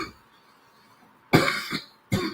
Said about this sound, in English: like a little cough and shit